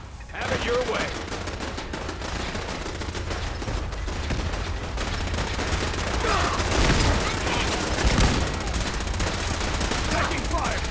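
Sustained gunfire in Fallout 4, dense overlapping bursts of automatic weapons and scattered single shots that continue steadily throughout, loud and close, with a few brief voice fragments underneath.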